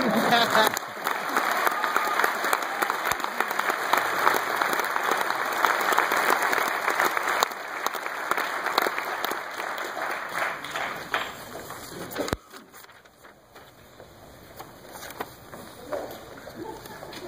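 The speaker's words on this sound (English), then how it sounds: "Let's give them one more round of applause." An audience at the Dallas Center-Grimes 2012 school Christmas concert gives a loud, dense round of applause for about twelve seconds, which then cuts to a quieter hall murmur.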